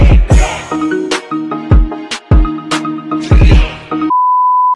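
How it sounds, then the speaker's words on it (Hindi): A bright electronic melody plays loud and close, short synthetic notes with punchy beats, ending on a sustained single beep tone. "वो है मेरी रिंगटोन"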